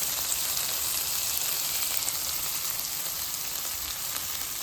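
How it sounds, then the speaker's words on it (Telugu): Mutton pieces for a pepper fry sizzle steadily in ghee, a close, even hiss that carries on without breaks or voices. "ఇలాగ నెయ్యిలో మటన్ పీసెస్ ఫ్రై చేసుకుని"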